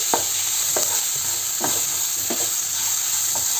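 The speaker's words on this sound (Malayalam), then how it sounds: "ഈ തക്കാളിയും കൂടെ ചേർത്തിട്ട് ഇതിനെ നന്നായിട്ടൊന്ന് ഇളക്കി യോജിപ്പിക്കണം" Tomato being stirred into an okra masala in a pan, with a steady hot sizzle and a regular run of spatula scrapes against the pan, each about every half second to second.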